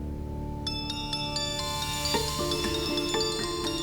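A phone's ringtone plays a repeating chiming melody at moderate volume in a quiet room, with no voices over it.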